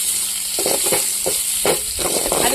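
Food frying in hot oil until golden for a goat curry, a steady sizzle with intermittent stirring scrapes and clanks of a spoon against the pan, close and fairly loud, no voices.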